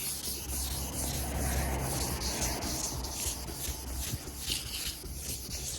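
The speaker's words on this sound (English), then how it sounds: "I've got some 1200 grit there and I'm just going to give it a wet sand" Steady close hand wet sanding of a Ford Escort RS2000 car bumper with 1200 grit paper, a continuous rubbing, swishing scrub with slight rhythmic strokes throughout.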